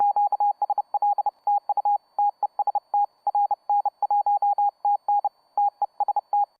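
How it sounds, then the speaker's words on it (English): Morse code message from the children's game Red Remover, a clean single-pitch electronic beep keyed in rapid short and long pulses with brief gaps, loud and steady, alone without talk. "It is a Morse code message."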